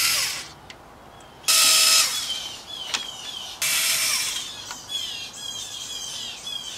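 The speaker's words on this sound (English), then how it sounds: "There's going to be 3 Phillips head screws on each side. Go ahead and remove them." Power drill backing out Phillips head taillight screws on a Kia Soul, short loud whirring bursts with sharp squeaks and pauses between them, close and alone without talk.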